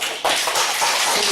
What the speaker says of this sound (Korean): 성가대 찬양 위에 헌신자들 위해 박수 한번 쳐주세요